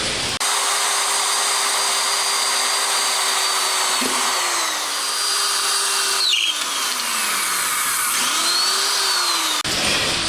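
A power drill bores three holes through a metal angle for a homemade starter mounting base, its motor whining steadily with pitch sagging under load and recovering, several bursts separated by brief stops, close and loud, no talking.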